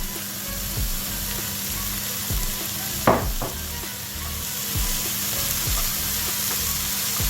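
A pinch of salt and frozen peas sizzle steadily in a hot pan, a continuous close frying hiss broken by a few stirring scrapes and one brief clatter midway.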